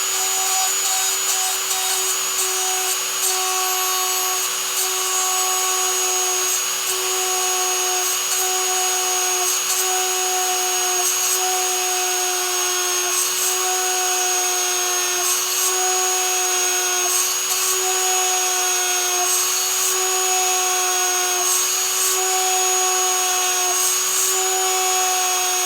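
A small motor-driven drill bores a hole through sea glass for jewelry making, a constant high-pitched whine with a faint grinding texture that runs steadily and close for the whole stretch.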